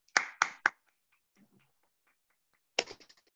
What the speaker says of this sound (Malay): Okay tepukan kepada tafsir rafidah tepuk